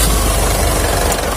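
A 2014 Mitsubishi Pajero Sport 2.5 GLS diesel engine idles up close, a loud, steady low throb with a faint knocking vibration and no talking.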